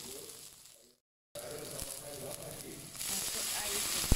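Onion and garlic dropped into hot oil in a pan, a steady close sizzle that breaks off briefly and then grows louder and brighter, with a couple of sharp clicks.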